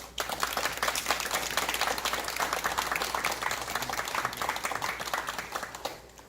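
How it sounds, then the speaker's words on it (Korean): An audience in an old traditional house claps steadily before a Korean jeongga singing performance, a dense, even applause at moderate distance that fades out near the end. "큰 박수로 청해 주십시오."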